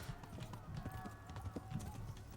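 A horse's hooves clip-clop steadily on the ground in the medieval video game Kingdom Come: Deliverance, quiet beneath a humming background and a voice.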